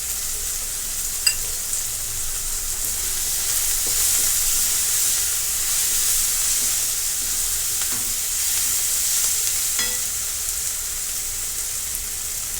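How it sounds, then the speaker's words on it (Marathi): A soybean mixture sautéing in a pan: a continuous bright sizzle and hiss of frying, with a few faint scrapes and clinks of a spoon stirring now and then, steady and close. "ती देखील व्यवस्थित परतून घेणार आहोत"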